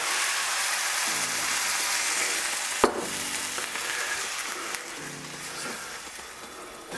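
Bulgur in a hot pan with vegetable stock just added, bubbling and sizzling steadily while a utensil stirs, with a sharp clack near the middle and quieter scrapes, no talk.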